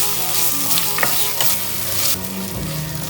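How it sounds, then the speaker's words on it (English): A tablespoon of butter sizzling in a hot pan for Turkish roasted tomato soup, a loud, close, continuous hiss with a few soft clicks of stirring, no voices. "I will add 1 tablespoon of butter."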